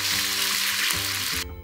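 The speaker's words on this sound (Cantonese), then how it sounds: "啲薑蔥爆過之後就倒入雞湯" Chicken broth poured into a hot wok of fried ginger and scallion makes a loud, dense hiss that holds steady, then cuts off sharply near the end.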